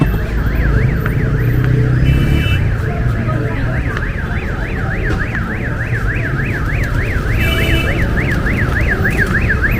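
A garbage truck's warning signal on a busy Kathmandu street, a loud, steady warbling electronic tone sweeping up and down in rapid regular cycles, close by and continuous over low traffic rumble.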